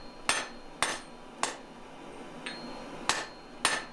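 Hammer blows fall on a hot Damascus steel billet as it is rounded into a cigar shape, six sharp metallic strikes at an uneven pace, fairly faint and with no voices.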